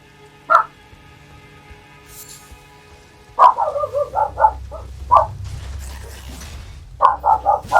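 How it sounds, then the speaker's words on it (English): Several dogs bark in short bursts, one sharp yap early, then a rapid run of close, loud barks, a lone bark, and a final cluster of barks at the end over quiet room noise. "Pardon the dogs."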